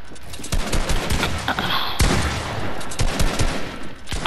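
Gunfire in a shooting video game, rapid close bursts and sharp cracks with thuds, loud and dense across the whole stretch.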